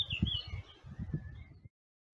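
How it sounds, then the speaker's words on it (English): Excitable small birds chirp in quick bursts from the far side of a hedge outdoors, faint and fairly close, the calls stopping abruptly near the end. "There's some very excitable birds on the other side of this hedge."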